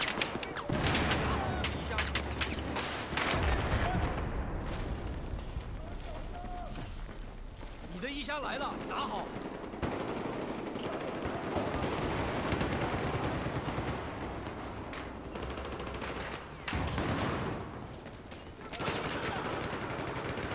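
Battlefield 4 gunfire from a SCAR-H on PC, with bursts and fusillades of shots running through most of the stretch, loud and close, mixed with mechanical clatter and voices talking over the action.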